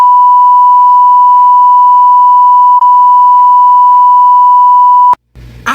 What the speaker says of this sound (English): when you guys heard the beep, I put the beep in there